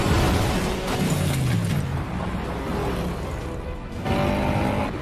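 A classic car speeds away under gunfire in a film chase, its engine roaring loud and steady over a dense background of sharp bangs and rumble, with no talk.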